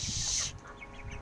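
Rooftop laying hens and young chicks cluck and chirp nearby in a brief burst, their calls loudest at the start and then fading into quieter background noise.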